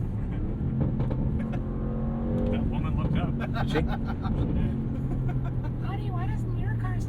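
A 2026 Bentley Bentayga Speed SUV with a 641 hp twin-turbo V8, its exhaust burbling and revving in low rumbling pulses near a river where people are rafting, while occupants talk briefly over it.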